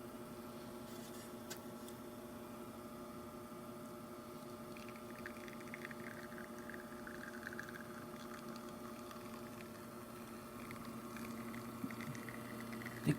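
An ECM Synchronika espresso machine pulls a single shot. A steady pump hum and a soft liquid patter run throughout, close and even, with no talking.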